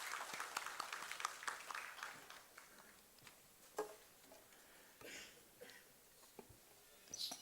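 An audience at a university convention applauds as a speaker is welcomed onto the dais, scattered, fairly faint clapping that thins out and picks up again in patches.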